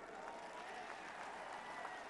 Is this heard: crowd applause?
yes